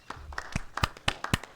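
Sparse, uneven claps in the video game Beacon Pines, a handful of separate hand-claps spaced irregularly over a moment, thin and close rather than a full crowd.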